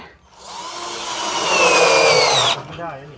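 A drill set with its clutch drives screws into posts, its motor whine rising and holding for about two seconds before cutting off abruptly, loud and close.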